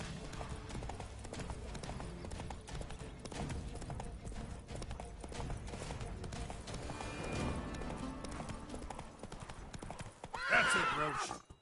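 Roach, the horse in The Witcher game, gallops with steady clip-clop hoofbeats throughout, then lets out a loud, sharp neigh near the end.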